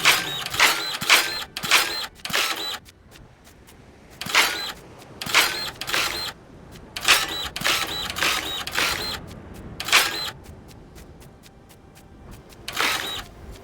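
A dirt printer machine running in the video game Dinkum, giving bursts of rapid mechanical clicking and whirring in irregular clusters separated by short quiet gaps, loud and close.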